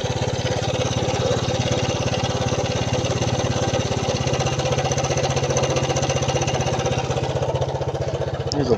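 A Suzuki Quad Runner LT160 ATV engine runs close by with a fast, steady putter, rough and mechanical, worn valves, holding an even idle throughout with no talking.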